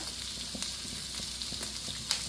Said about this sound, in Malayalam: എണ്ണ നന്നായിട്ടൊന്ന് ചൂടായിട്ട് വരുമ്പോൾ ഒരു പതിനഞ്ചോളം ചെറിയുള്ളി ഒന്ന് മുറിച്ചതിട്ട് കൊടുക്കാം